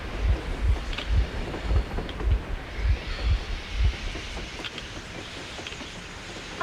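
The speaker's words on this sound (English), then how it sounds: "A train! A damn train on the surface!" A train rumbles across the surface in the video game Metro Exodus, heavy low thuds repeating in a steady rhythm like wheels on rail joints, then fading into a rushing wash.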